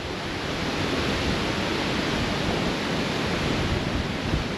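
Strong wind roars continuously across a mountainside on the Appalachian Trail near Spy Rock. The sound is a dense, loud, broadband rush buffeting the microphone, with no voices.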